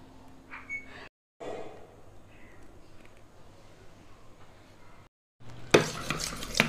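A spoon stirs a fenugreek and turmeric face cream mixture in a small bowl, giving soft, repeated scraping and clinking, with two brief gaps of silence and a louder, brighter burst of stirring at the end.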